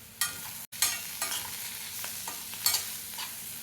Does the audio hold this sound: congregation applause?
no